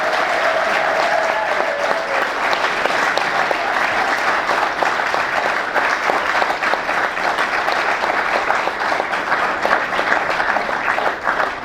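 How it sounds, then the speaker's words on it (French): Audience at a French-language ceremony bursts into sustained, loud applause, a thick wash of clapping that holds steady from start to finish. "Avec tous vos applaudissements."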